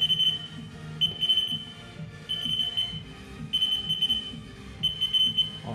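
A Haas VF0E CNC machine's control alarm beeps in repeated high-pitched bursts, several short chirps roughly every second over a low workshop hum, with no talking.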